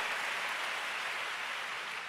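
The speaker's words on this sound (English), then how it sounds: "give him a big clap, hallelujah" A church congregation claps for the Lord in a continuous, dense wash of applause, fairly distant and steady throughout with no voices over it.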